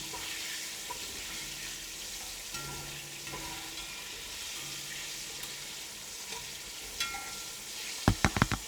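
Karaage chicken deep frying in hot oil at 350 degrees, a soft continuous sizzle with faint bubbling and a few sharp clinks near the end.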